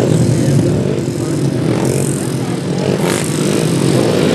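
500cc sidecar motorcycles race on a grasstrack, their engines roaring loudly and continuously as they pass at close range, with a race commentator's voice faintly under the din.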